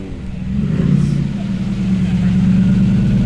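A Noble M600 sports car engine runs with a deep, steady rumble close by in a workshop, holding an even drone throughout while people talk over it.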